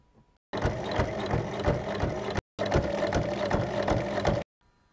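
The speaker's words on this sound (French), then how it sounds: "On pique ensuite sur 3 côtés." A sewing machine stitches the fabric pieces of a reading pillow in two steady runs of rapid mechanical whirring, with a brief pause between them and quiet before and after.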